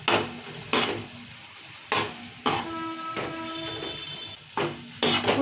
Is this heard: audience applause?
no